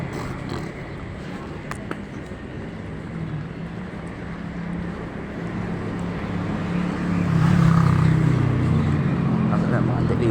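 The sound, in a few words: delivery trucks lined up on the street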